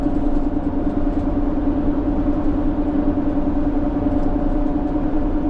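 A car drives steadily along a road through Alabama cotton fields, its engine and road noise a constant, loud, close drone with no voices.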